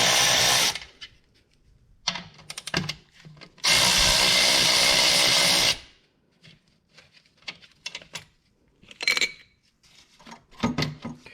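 Tools at work on the upper bolts during a turbo install on a 2018+ Honda Accord: two long, loud bursts of continuous power-tool whirring separated by short metallic clinks and rattles, with scattered clicks and taps after.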